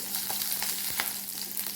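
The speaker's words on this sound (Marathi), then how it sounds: "जिरे आणि मोहरी टाकून घेऊ" Cumin and mustard seeds sputter in hot oil, giving a continuous close sizzle broken by scattered sharp pops and crackles, heard on their own.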